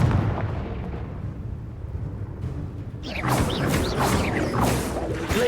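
In the Hogwarts Legacy video game, a Confringo spell fires. After a quieter rumbling lead-in, an abrupt explosive burst is followed by crackling, whooshing blasts and debris.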